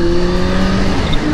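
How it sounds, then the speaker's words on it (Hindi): A Kawasaki Z900 motorcycle fitted with a slip-on exhaust revs in a steady, loud engine roar, with sustained low harmonic tones and no talk. "धीरे धीरे एग्जॉस्ट की आवाज़ खुल रही है, स्लिप ऑन की लाउड हो गई।"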